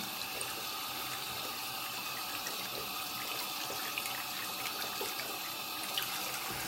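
Tap water running steadily into a sink while small paint brushes are rinsed, a constant close hiss and splash with faint small clicks and no voices.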